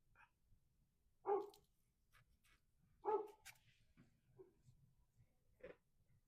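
A dog barks indoors, three distinct sharp barks spaced a couple of seconds apart with a few softer yips between, fairly quiet and distant in a hushed room.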